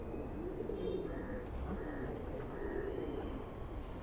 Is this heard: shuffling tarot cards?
no